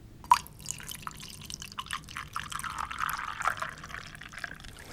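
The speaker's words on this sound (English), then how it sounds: "So let me pour some coffee" Coffee trickles into a cup at a quiet breakfast table, a close, soft liquid stream with small drips and splashes that swells toward the middle and then tapers off.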